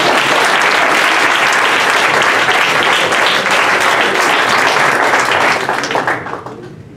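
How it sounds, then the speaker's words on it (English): Loud, dense applause from a high school audience at a comedy hypnosis show, sustained clapping that fades away over the last second. "Give him a round of applause, guys."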